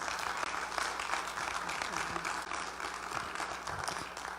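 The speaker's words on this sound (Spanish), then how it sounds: "quiero por favor dar un fuerte aplauso a mi esposa" Audience applauding for the speaker's wife, Raquel, at a church gathering: dense, steady clapping that fills the whole stretch at moderate level with some murmur underneath.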